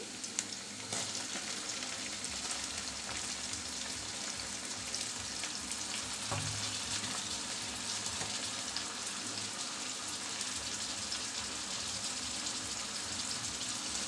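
Chopped tomato sizzles steadily in a pan with egg, a soft, constant frying hiss that continues throughout with a few faint clinks and stirring sounds.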